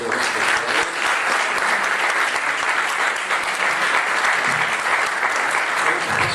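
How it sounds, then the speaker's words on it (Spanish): Audience at a Spanish-language panel on computer crime breaks into loud, dense applause, a sustained wash of many hands clapping up close, steady throughout without pause. "Le damos un aplauso."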